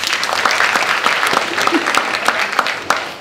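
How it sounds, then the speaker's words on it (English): A crowd at an honorary ceremony in Kingston claps steadily, a dense burst of applause from many hands that stays even throughout. "So clap yourselves again."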